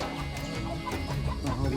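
Chickens cluck and murmur continuously in a coop where mine workers sleep at a Tanzanian mining camp, a busy overlapping flock sound with low background noise and no clear talk.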